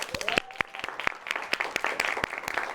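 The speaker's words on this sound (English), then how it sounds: "Let's clap for that." A small studio audience at a live political talk show claps in sparse, distinct hand claps, a scattered, modest round of applause with no speech over it.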